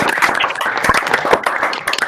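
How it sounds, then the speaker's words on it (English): Remote meeting participants clap through their microphones at a design leadership show-and-tell, a scattered, uneven patter of hands lasting a couple of seconds. "Let's do some real applause."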